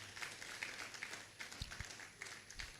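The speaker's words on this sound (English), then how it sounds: "A bigger applause for Rosemond" A campus launch audience gives faint, distant applause, a steady patter of clapping heard over a hum, with a couple of low thumps near the end.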